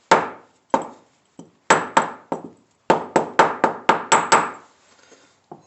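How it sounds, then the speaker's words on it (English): Light taps on a part of a Craftsman push lawn mower with a 6.5 Briggs and Stratton engine to free a stuck washer: about a dozen sharp metallic knocks in an irregular rhythm, close and crisp, then a few faint handling sounds. "Lightly tap it."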